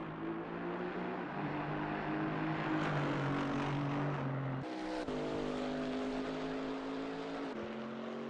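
A GT4 race car drives at Kyalami circuit, its engine droning loud and close with steady pitch climbing through gears and sharp shift breaks, alone without commentary.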